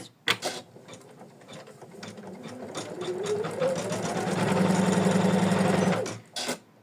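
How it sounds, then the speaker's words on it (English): An embroidery sewing machine runs quilting stitches on an in-the-hoop bookmark, a steady mechanical whir and rapid needle chatter that climbs slightly in pitch and loudness, then stops abruptly, with a couple of clicks at the start and end. "Then we need to stitch the quilting stitches."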